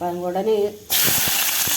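Fenugreek, mustard seeds and urad dal dropped into a very hot, dry pan for tempering, bursting into a loud, steady sizzle with small crackling pops, right after a woman's brief speech.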